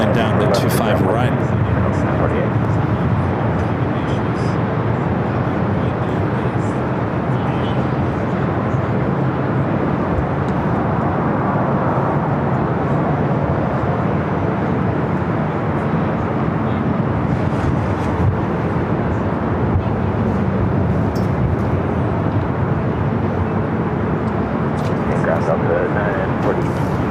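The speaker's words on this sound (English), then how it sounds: "United flight taking off on the south side, heading to London Heathrow, flight 923 on that 787-9 Dreamliner." United Boeing 787-9 Dreamliner taking off from the south side runway at LAX, a steady, continuous jet roar with wind buffeting, under near-constant talk.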